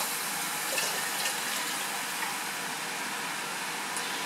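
Hot water poured into a container to dissolve copper sulfate powder for a chemistry preparation, a continuous steady hiss and splash of liquid running without pause, fairly close and even in level.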